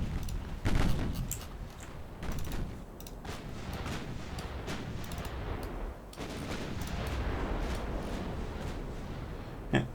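Guns fire through a video game battle in a French long campaign, with dense volleys of shots and rumbling impacts. The clatter is fairly faint and continuous, with a few louder thuds standing out.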